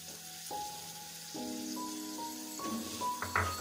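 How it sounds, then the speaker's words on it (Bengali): About 200 g of chopped potatoes sauté over a low flame in a wok while cooking bottle gourd with prawns, giving a steady, moderate sizzle throughout with some faint tonal sounds in the background. "আলু কুচিগুলো যোগ করেছি, এটাকে আমরা লো ফ্লেমে মিনিট 5 ধরে কষাতে থাকবো।"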